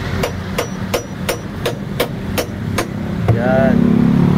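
Metal hammer blows strike a large bolt on an LG automatic washing machine to loosen it, about nine sharp, evenly spaced hits close by, then a steadier mechanical whine takes over at the end.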